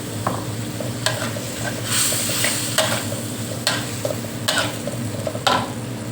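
Shrimp stir-fried with bird's eye chilies crackles and sizzles in a hot pan, with a spatula scraping and clacking against the metal in sharp strokes every second or so.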